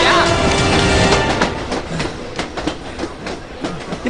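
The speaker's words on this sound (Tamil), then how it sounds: "ட்ரெயின் போகுதுடா" A train rushes past close by, loud at first, then settles into a rhythmic clickety-clack of wheels over rail joints, with voices briefly audible underneath.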